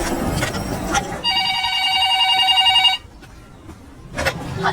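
Telephone ringback tone during an outgoing call in a Hindi film, one long steady electronic ring lasting under two seconds, then it cuts off into quiet room noise.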